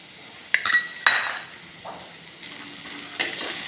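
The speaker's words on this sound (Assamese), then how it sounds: "এইবাৰ ভাজি ল'ম একেলগে।" Jaluk (Assamese black pepper), ginger and a little green chili fry together in a pan, with a spoon clinking and scraping against the metal a few times over a soft, faint sizzle.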